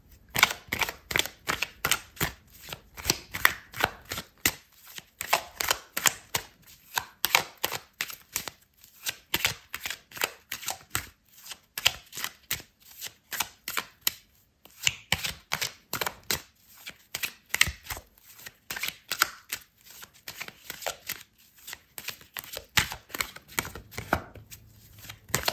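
Tarot cards being shuffled by hand, a long series of crisp, rapid riffling and slapping bursts in irregular rhythm, close and clear with brief gaps between handfuls.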